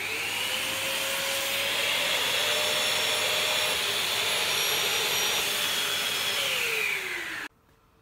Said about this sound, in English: And now for the last, just the vacuum,